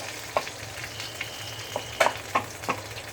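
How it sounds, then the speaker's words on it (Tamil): Ingredients for pasi payaru payasam, a moong dal sweet, roast in a pan over medium heat, with a low sizzle broken by several sharp crackles and stirring scrapes, close by and without talking. "மிதமான ஹீட்டில் தான் நம்ம வறுத்து போடணுங்க"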